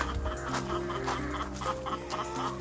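Several hens cluck and murmur at close range, a steady chorus of soft calls with occasional louder squawks over a busy, continuous background.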